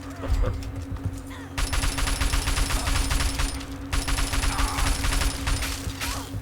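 Rapid gunfire in the video game Fallout 3 plays as loud, sustained bursts of automatic shots, broken by a short pause, over a steady low background hum.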